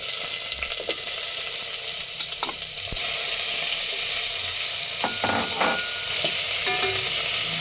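Pork sizzles and spatters as it fries in a pot for sinigang, a steady close hiss with occasional stirring scrapes and no voices.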